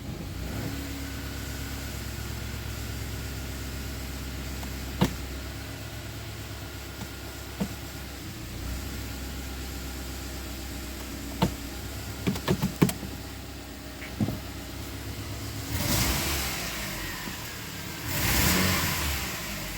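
Subaru Forester engine idling with a slight stumble, a steady low running rumble carrying a few irregular clicks and knocks, then brief louder surges near the end.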